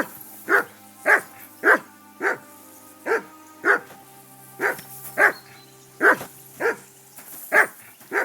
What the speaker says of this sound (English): That barking was a pain in the ass.